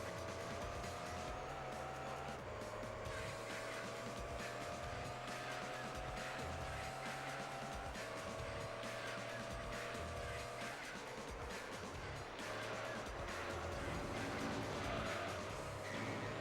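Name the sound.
race car driving with tire squeal in Gran Turismo 3 video game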